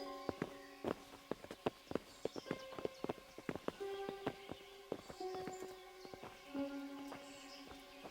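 Horses' hooves clip-clopping in Kingdom Come: Deliverance, a series of sharp, irregular hoof clops on hard ground, fairly faint, accompanied by soft jingling tones.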